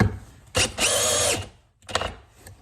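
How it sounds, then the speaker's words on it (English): A DeWalt 12V cordless drill driving a screw whirs in two loud bursts, the first long and steady, the second shorter after a brief pause, with a ratcheting edge as it drives. "So I've got it back on drill mode."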